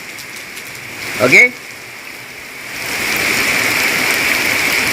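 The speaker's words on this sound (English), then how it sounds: "Now it's a heavy rain with lightning and thunder." Heavy rain falls steadily on a forested area in Singapore, a broad hiss that swells louder toward the end, after someone says a word and a single bird call cuts through early.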